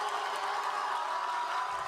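Hundreds of students lining the hallways of Our Lady of Good Counsel High School in Olney, Maryland, clap and cheer for a beloved janitor, a steady dense wash of applause and crowd noise throughout.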